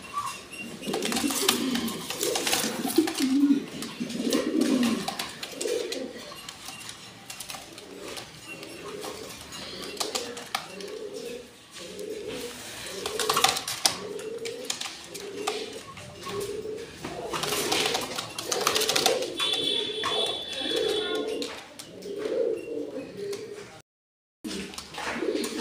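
Fancy pigeons in a loft coo in low, repeated murmurs throughout, with occasional wing flutters and scuffles nearby.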